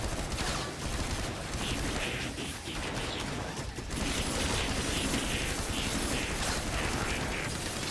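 A turret fires in a VR shooter video game, a dense, continuous mechanical rattle of rapid gunfire that stays loud throughout, dipping briefly in the middle before resuming.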